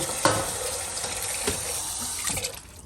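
Tap water runs steadily into a sink while tripe is washed, with splashing bursts as the meat is handled under the stream, fading slightly at the end.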